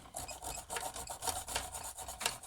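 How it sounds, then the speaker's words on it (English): An old hand file rasps in short, even push strokes across the underside of hedge trimmer blades to clean off burrs, giving about a dozen close, rhythmic scrapes with no talking. "I know you file on the push stroke."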